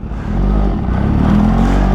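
A supercharged Kawasaki Ninja H2 motorcycle pulls away with a loud, steady, deep engine drone that holds up close and unbroken for the whole stretch.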